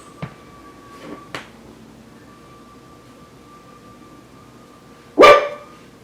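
A puppy lets out one sharp, loud bark nearby, after a couple of fainter yips earlier in an otherwise quiet room.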